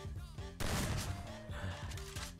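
Gunfire from an esports match in a shooter game at a KECS qualifier final, with a loud burst of shots over a busy mix of game sounds and background tones.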